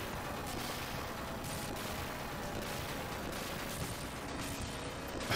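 Dense, continuous rumbling blasts and crackling gunfire-like bursts fill the whole stretch without pause, a steady barrage of Gunstar Heroes game explosions at constant loudness.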